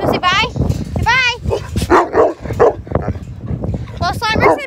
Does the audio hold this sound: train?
no